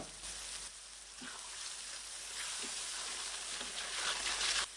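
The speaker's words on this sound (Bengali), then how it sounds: "এখানে হাফ কাপ সয়াবিন তেল দিয়েছি আর সাথে দিয়ে দিচ্ছি এক কাপ পেঁয়াজ" Onion frying in hot soybean oil for a home-style chicken curry, a steady hissing sizzle that holds throughout, close and moderately loud, with no talking over it.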